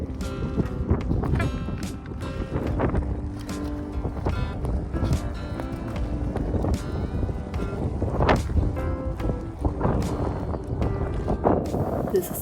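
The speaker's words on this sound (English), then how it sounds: "it's really windy and wet and grey weather today" Strong wind buffets the microphone in a steady roar on a wet, grey day, with gusty low rumbling and occasional bursts throughout.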